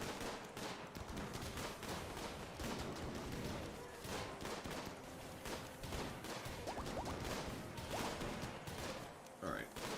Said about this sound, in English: that was a triple rocket launcher